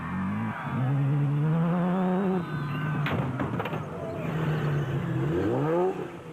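Red and white Plastotech race car engine revving and accelerating hard at a Toyota 1000 off-road event, a loud rising whine with gear changes, brief clatter midway, then climbing again close by.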